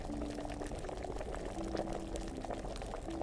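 Potion brewing in Kingdom Come: Deliverance's alchemy setup, a continuous close bubbling boil with liquid gurgles and faint tonal whistles layered over the steady churn.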